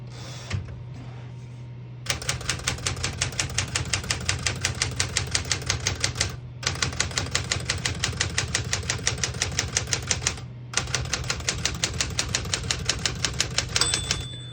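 Rapid, steady clacking of a 1965 Smith-Corona Galaxie II manual portable typewriter's keys in long runs, broken by short pauses, with a small margin bell ding near the end.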